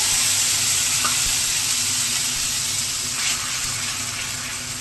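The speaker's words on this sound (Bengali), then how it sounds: "আমি কড়াইয়ে সবার প্রথমে ফোড়নে শুকনো লঙ্কা জিরে দিয়ে দিয়েছি" Dry red chillies and cumin seeds temper in hot oil in a wok with a steady, close, dense sizzle and crackle throughout, and a few brief clinks partway through.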